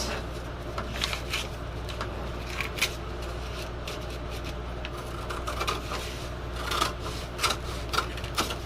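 Scissors snip through paper in short, scattered cuts over a low steady background hum, with a cluster of snips near the end.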